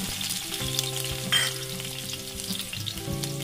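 Finely chopped capsicum and garlic fry in hot oil for Veg Manchuria, giving a steady close sizzle with a brief louder crackling burst partway through and a low hum underneath.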